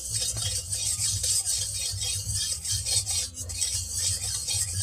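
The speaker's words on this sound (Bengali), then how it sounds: "খুন্তি দিয়ে তেলটা কড়াই চারিদিকে লাগিয়ে দেব" A metal spatula scraping and spreading a little oil around the inside of a hot kadai, a close, continuous rasping rub with repeated strokes and a faint sizzle underneath.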